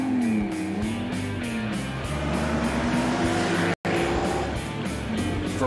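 A 1955 Ferrari Europa 250 GT engine turns over and fires up on the key, then settles into a loud, steady, rumbling idle heard close by without any talk.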